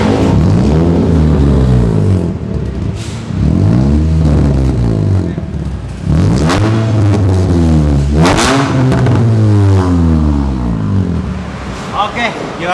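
A Honda Brio Type S engine revs loudly and repeatedly, its deep bassy exhaust rising and falling in sweeping pulls, recorded close.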